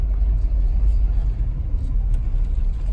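A 1955 Cadillac Series 62 engine runs with a deep, steady, loud low rumble on a wet, slick surface, continuous throughout with no distinct changes.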